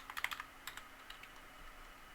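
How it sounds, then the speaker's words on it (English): Keys typed on a computer keyboard while entering an IP address for a Windows ping test: a quick, close burst of soft clicks, then a few scattered, quieter taps. "we're going to type in that address"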